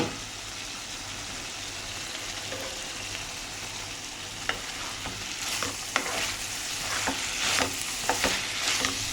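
Food frying in a pan, with a steady close sizzle under occasional spatula scrapes and clicks that grow a little busier near the end, with no talk.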